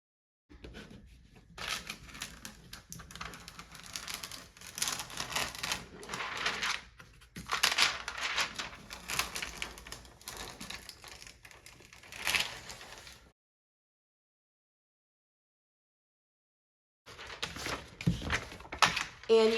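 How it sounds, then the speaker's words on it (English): Transfer tape being burnished onto a Cricut vinyl decal, a steady close scraping and rubbing that comes in strokes, breaks off into silence partway through and then starts again. "I'm gonna go ahead and burnish this down"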